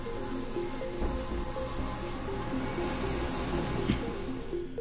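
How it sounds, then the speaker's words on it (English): A 1175P envelope printer feeder runs with its belt moving and vacuum on, giving a steady mechanical hum and whirring hiss with faint rhythmic clicks, continuous and close. "The vacuum can now be turned on as the belt is running."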